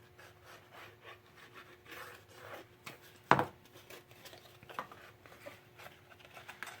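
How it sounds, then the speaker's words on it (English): Paper pieces of a handmade book are rubbed down by hand in a soft, faint, scratchy rhythm, with one sharp tap in the middle and a few light knocks after it. "So I'm just going to give that a good little rub here."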